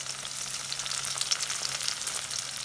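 Onion, green chilli and garlic paste fry in a pan with a steady, fine crackling sizzle that holds at a soft level, with occasional sharper pops over a faint low hum.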